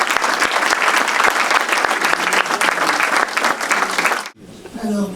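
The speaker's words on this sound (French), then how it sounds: "Je voudrais qu'on applaudisse très fort" Festival audience at the 42nd Vues d'Afrique international film festival applauds loudly for Géraldine Lechêne, a dense, sustained clapping for about four seconds that stops sharply, followed by a voice speaking.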